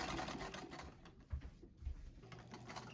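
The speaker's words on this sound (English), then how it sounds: "Here I am pinning and then sewing the cuffs into place." A sewing machine stitches cuffs onto a reproduction 1925 man's shirt, a dense steady mechanical whirring and rattling heard close up, with no voices.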